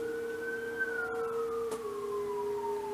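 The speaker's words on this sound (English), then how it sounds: "the police sirens or ambulance or whatever it is." A police or ambulance siren carries from a nearby highway, a thin faint wail sliding slowly downward in pitch over a few seconds, with a brief click partway through and no talking.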